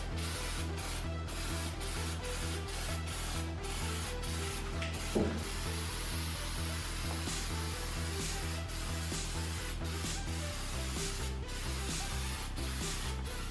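Spray paint going onto the rusted body of a Hyundai Accent, a faint steady hiss with a repeating mechanical pulse underneath and short interruptions throughout, quiet and unaccompanied by speech.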